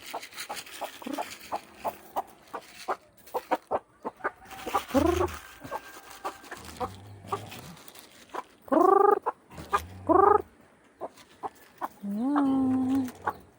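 Backyard chickens being fed in the morning cluck in short bursts, with a few longer, louder squawks close by, over scattered pecking and rustling.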